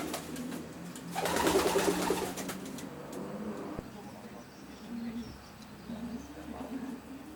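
Young racing pigeons coo inside a loft's young bird section, soft repeated murmuring calls heard near and steady under some background rustle, with a brief louder burst early on.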